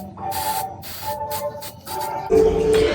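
Cover-up makeup is sprayed onto a face in a few short hissing bursts, close and fairly loud, separated by brief pauses, with the last burst joined by a higher whining tone.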